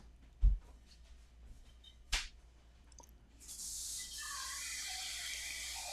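Water from a kitchen sink pours into a container, starting after a couple of soft knocks as a steady, moderately loud splashing flow that continues to the end.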